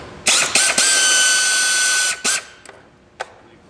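A power tool, likely an impact wrench or drill, loosening a bolt on a 2001 Hyundai Tiburon, heard as a loud, close whir lasting almost two seconds, then a shorter second burst and a few brief clicks, with no talking.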